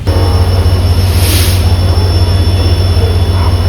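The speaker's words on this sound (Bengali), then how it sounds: "আমি চলে এসেছি হাওড়া স্টেশনের নতুন প্ল্যাটফর্মে" Loud, constant rumbling drone of a train engine idling close by at a platform of Howrah station, Kolkata, at night, with a deep steady hum throughout.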